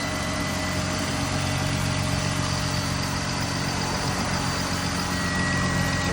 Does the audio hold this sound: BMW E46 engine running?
yes